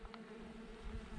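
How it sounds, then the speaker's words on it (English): Tiny sweat bees buzzing outdoors on a bikepacking route, a faint steady insect drone close by, brief and low in level. "I'm seeing a million of these little sweat bees everywhere we go."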